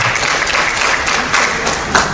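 A church congregation claps for Jesus after a resurrection sermon, loud, close, uneven applause with scattered thumps and taps and no speech over it.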